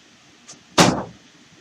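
A door slams shut once in a shooter video game, a loud single thud after a faint earlier tick, then quiet.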